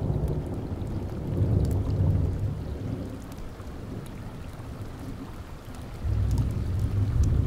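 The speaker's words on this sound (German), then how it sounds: "Wenn es in Strömen regnet, verändert sich unser Bach dramatisch." Heavy rain pours steadily beside a woodland stream, with deep rolling thunder swelling near the start and again toward the end, the low rumble sustained and loud under the constant wash of rainfall.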